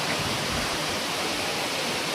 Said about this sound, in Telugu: వాటర్ ఫాల్స్ ఫోర్స్ వస్తున్నాయి